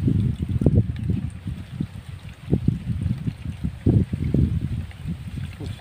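A homemade cooler's water pump lifts water, giving a steady, close gurgling and splashing flow with irregular low burbles, with no speech.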